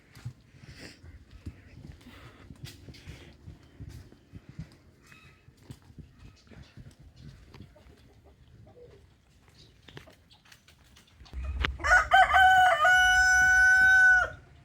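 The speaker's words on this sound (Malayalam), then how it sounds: "കോഴിയെ നോക്കാനായിട്ട് പോവാം" Quiet rustling and scattered faint clucks in a poultry yard, then a rooster crows loudly and close by near the end, its long call rising and wavering over a few seconds.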